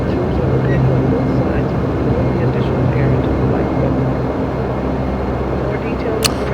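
Dash 8 Q400 twin-turboprop airliner in a flight simulator, its steady engine drone and whine filling the cabin as a continuous, loud hum with a faint click near the end.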